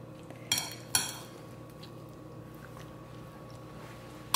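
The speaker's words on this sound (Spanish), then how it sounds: "Revolvemos." A spoon stirring a beet, carrot and onion salad in a bowl, two quick clinks against the dish early on, then soft wet mixing and one more clink at the end, with no talking.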